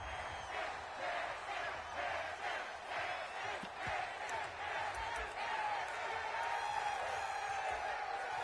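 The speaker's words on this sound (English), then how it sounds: "Plenty of shouts from this crowd as they watch the replay." A football stadium crowd shouts and roars steadily during a replay, a dense, continuous wash of many voices with surges of yelling and whoops, loud and sustained throughout.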